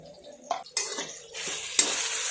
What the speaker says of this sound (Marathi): हे सर्व आपण परतून घेऊ।